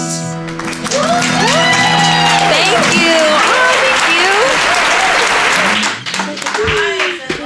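Audience applause follows a live pop performance, with cheers and shouts mixed into the clapping and a voice speaking briefly over the crowd near the end.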